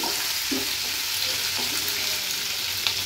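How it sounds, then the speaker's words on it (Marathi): Crushed ginger-garlic and cumin seeds fry in hot oil in a pan, giving a steady, close, bright sizzle with a few soft stirring scrapes and no talking. "आलं लसूण क्रश तेलावर थोडंसं परतून घ्यायचे"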